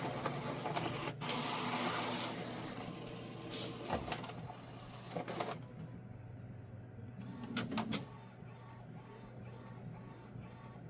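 An Epson EcoTank ET-16600 printer runs through a print cycle with steady mechanical whirring and humming. Intermittent clunks and carriage movements are heard close by, with no talking.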